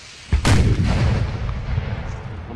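An artillery cannon fires in a Napoleonic Wars video game: a single sharp boom followed by a long rumbling decay, loud and close.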